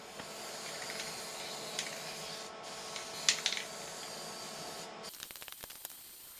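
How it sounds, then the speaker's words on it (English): An aerosol can sprays primer onto bare metal dump truck parts as a continuous close hiss with slight changes and a few faint clicks. It ends in a short burst of rattles and taps. "I'm going to shoot them just with like a spray paint"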